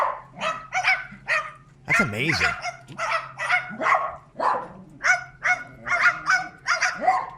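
A bird mimics a dog, giving a run of loud, close, evenly spaced bark-like calls with honking overtones, while a person speaks briefly between them.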